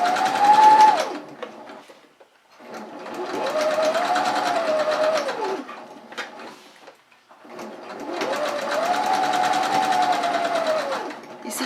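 A sewing machine stitches a rice pot bonnet while the garter is pulled to gather the fabric, running in three steady bursts separated by short pauses, close and fairly loud with no talk.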